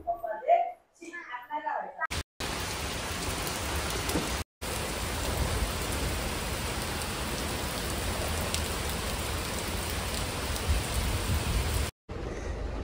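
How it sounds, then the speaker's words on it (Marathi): Heavy rain pours down outside a clothing store during a sale visit, a dense, steady roar of rainfall close by that cuts out briefly twice, with people talking at the start. "पाऊस खूप आहे"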